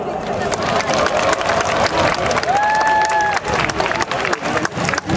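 Crowd at an outdoor climate justice march in Seoul roars and applauds steadily, a dense continuous swell of cheering and clapping with a sustained whistle-like tone briefly rising above it.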